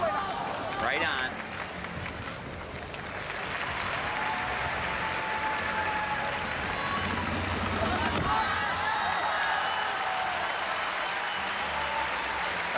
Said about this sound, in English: It's just simple applause and respect for what they just saw.